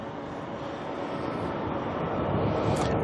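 A 747 cargo jet taxis at Auckland Airport, its broad, steady engine roar close by and slowly swelling over a few seconds, with a brief higher whine near the end.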